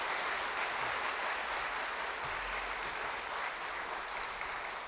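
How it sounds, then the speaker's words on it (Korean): Steady, even applause from a church congregation honoring a visiting pastor, a dense wash of hand clapping that holds at a constant level throughout, with no voices standing out. "목사님을 격려하는 박수를 한번 드리도록 하겠습니다"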